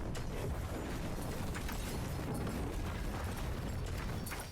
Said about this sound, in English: We just have a lot of explosions going on right now.